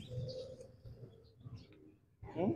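Baby chicks newly hatched in a small home poultry setup give thin, high peeps, faint at first and louder in a short burst near the end, over low background noise.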